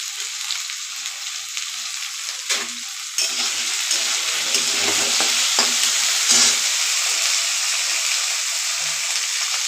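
Potatoes and peas fry with rice in a pan, giving a loud, continuous sizzle close by with intermittent scraping and stirring knocks throughout.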